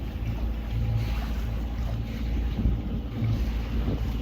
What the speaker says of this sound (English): At the moment, just kind of motoring out.